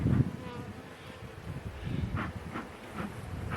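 Honeybees buzzing around beehive frames during a hive inspection, a low continuous droning hum near the microphone, with some handling thumps and scraping of the frames mixed in.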